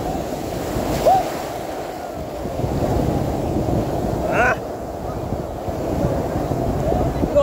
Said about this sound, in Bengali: প্রচুর বড় বড় ঢেউ আসছে আজকে